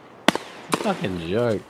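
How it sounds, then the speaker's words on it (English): Buckshot blasts from a shotgun in Escape from Tarkov, two sharp booming reports close together, followed by someone talking loudly over the tail. "he's just hitting me with buckshot from there"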